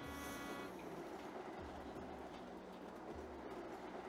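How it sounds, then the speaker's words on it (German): Subway train in the Cities in Motion simulation game, a steady rumbling rail run with a brief tonal horn-like toot at the start and faint rhythmic clatter, moderately loud and continuous, no talking. "Unsere erste U-Bahn."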